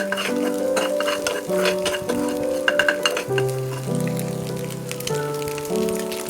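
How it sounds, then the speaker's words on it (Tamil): An egg mixture frying in a pan, with a continuous sizzle and crackle under a steady musical background tone. "இப்போ இதை நல்லா ஃப்ரை பண்ணி விட்டுக்கோங்க."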